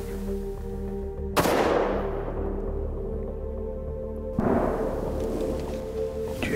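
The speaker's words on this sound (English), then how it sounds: "That was definitely a gunshot." Two rifle shots during a deer hunt, each a sharp loud crack with a rolling echo that fades over a couple of seconds, about three seconds apart over a steady low background hum.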